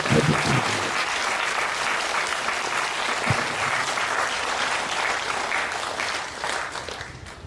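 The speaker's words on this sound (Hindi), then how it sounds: "हम तालियां बजाएंगे हाइएस्ट योग के लिए।" A seated audience at a spiritual talk on meditation claps loudly and continuously, a dense wash of hands that holds steady and tapers slightly toward the end.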